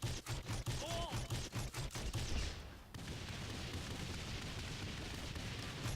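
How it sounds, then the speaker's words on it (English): Grenade launcher fire in the video game Saints Row The Third, a dense burst of loud booming shots and blasts for about three seconds, followed by a sustained roar of explosion noise. "Oh, it's a grenade launcher."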